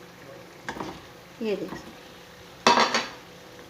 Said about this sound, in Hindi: अब मैं सबसे पहले आलू डालती हूँ